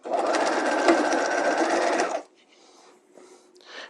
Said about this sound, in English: we're going to sew right up side seam